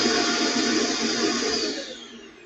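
A household vacuum cleaner runs nearby with a loud, steady whooshing whir that eases off slightly at the end.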